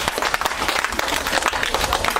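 Schoolchildren in a classroom clap together in a dense, steady burst of applause, close and fairly loud, filling the whole moment without any talking over it.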